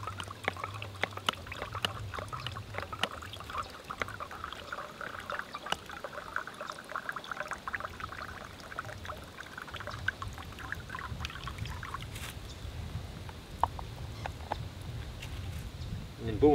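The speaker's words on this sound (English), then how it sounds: "Basically, I'm just forcing it through the extreme micro filter inside." Drinking water from a jerry can setup for 4x4 touring is forced under pressure through an extreme micro filter, giving a continuous trickling, hissing flow with a person talking over it.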